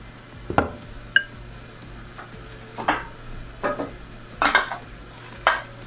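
A whisk beats cake batter for a tres leches sponge in a bowl, producing scattered clinking scrapes against the sides, moderately loud and close, in loose irregular bursts.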